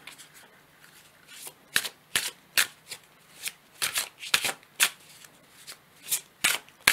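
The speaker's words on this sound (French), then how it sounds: "Je vais tirer encore une autre carte." Tarot cards being shuffled and drawn, giving a run of crisp, papery riffles and snaps in irregular bursts, close by and fairly quiet, with no talking.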